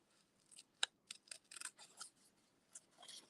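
Scissors snip through paper during fussy cutting for a handmade owl card, a series of short, crisp cuts in an uneven rhythm, close and fairly quiet, with no talking.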